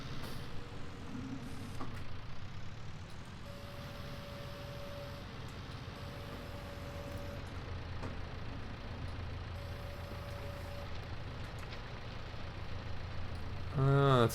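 A tractor pulling a rolling muck spreader in Farming Simulator 19 hums with a steady low engine drone throughout, with brief tonal beeps partway through and a louder burst right at the end.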